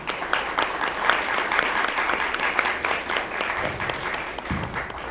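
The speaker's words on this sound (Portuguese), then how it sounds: "eu queria pedir uma salva de palmas em homenagem àquele povo" Sustained applause from an audience at a political event, clapped in tribute to a suffering people, a thick, continuous rattle of many hands that stays loud and steady, with a low murmur underneath near the end.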